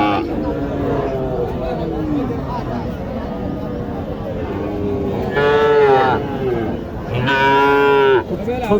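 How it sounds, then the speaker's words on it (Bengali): Two loud, drawn-out cow moos rise over a busy crowd of chattering voices at the Mataji cattle market in Naogaon, Bangladesh, the bellows sounding close and strong. "ছোট সাইজের একটি গরু"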